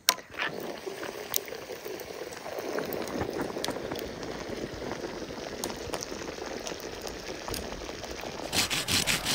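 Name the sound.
water boiling on a camping stove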